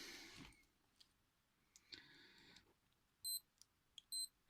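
Alarm on a fake Casio digital watch gives two short bursts of high, thin electronic beeps near the end, amid quiet handling clicks.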